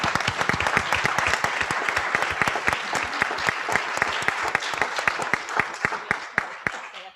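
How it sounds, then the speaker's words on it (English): An audience at a school board meeting applauds retiring school staff, with dense, steady clapping from many people that tapers off near the end. "Give them all a round of applause."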